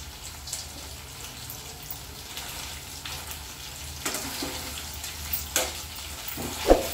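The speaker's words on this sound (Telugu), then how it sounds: "ఆయిల్ తక్కువ వేసి కొంచెం కొంచెం వేయించుకుంటున్నాండి" Chicken pakoda frying in a shallow layer of oil gives a steady, close hiss and sizzle throughout, with a few sharper pops and clinks toward the end and no talking.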